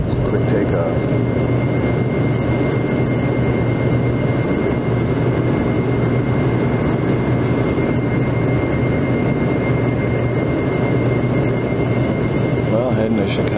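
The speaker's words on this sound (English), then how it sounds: "And we're up. It's a quick takeoff." Heard from inside the cabin, a jet airliner takes off from San Francisco with a steady, loud engine roar and rumble that holds without a break from start to finish.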